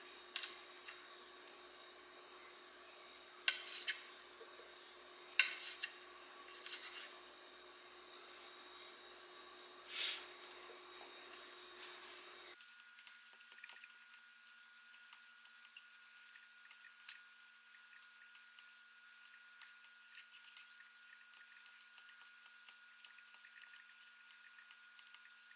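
Garlic is cut on a board, a run of sharp, quiet knife taps and clicks, sparse at first and then quicker and denser, close up, with faint background hum and no talking.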